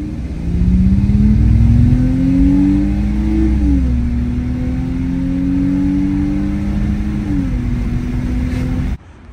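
Car engine fitted with a cheap aftermarket air intake, revving loudly and close: a steady deep drone rising in pitch, holding, dipping and climbing again before cutting off abruptly near the end.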